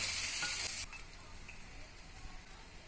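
Cooked rice for chicken fried rice being stirred and tossed in a hot pan, loud dense hissing and scraping for the first second that then drops to a quieter steady sizzle, close up with no voices.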